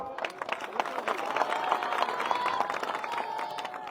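Audience applause at an outdoor Punjabi political rally in Tarn Taran, a dense crowd clapping continuously for several seconds with scattered cheers, fairly close and steady.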